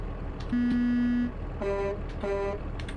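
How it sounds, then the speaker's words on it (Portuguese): Truck horn in American Truck Simulator, sounding three times: one long steady blast followed by two shorter honks, loud and alone with no talking. "tem buzinas também diferentes"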